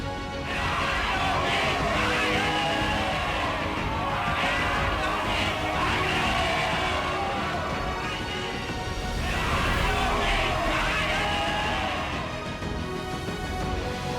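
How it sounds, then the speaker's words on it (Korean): A large street crowd of Koreans at the 1919 March 1st independence movement shouts 'Daehan dongnip manse' at full voice, the massed cheers rising and falling in three long, sustained waves. "거리로 수많은 사람들이 뛰쳐나와 대한독립 만세를 목이 터져라 외쳤습니다"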